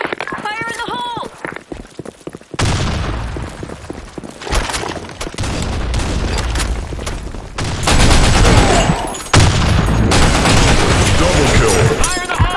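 Battle in the shooter game Broken City: a grenade blast gives way to sustained, loud gunfire with rapid bursts and overlapping shots, and a voice speaks over the start.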